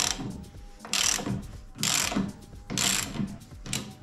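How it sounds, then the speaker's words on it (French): A ratchet works on a shock absorber bolt in bursts, four clicking runs of roughly half a second each separated by short pauses, close and moderately quiet. "Et là maintenant je vais essayer de dévisser le boulon"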